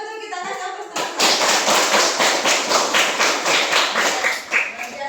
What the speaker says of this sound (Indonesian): kalau sudah betul kita kasih aplaus teman-teman